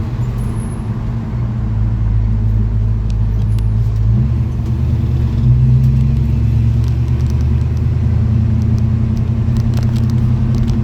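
A 1955 Chevy Bel Air's engine rumbles steadily while the car is driven, a deep low drone that rises slightly midway, with road noise and no talking.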